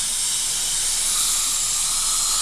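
Steady, close hiss of a thin dental torch flame burning continuously while a gumline filling is shaped, loud and unbroken throughout with no voices.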